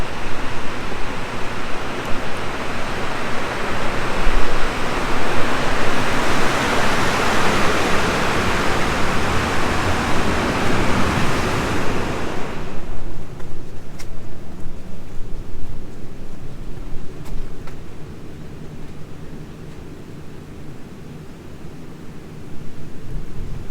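Waves with whitecaps roll onto the Lake Superior shore in Gogebic County, Michigan, in a loud, broad roar of surf that fades into softer wash and wind about halfway through.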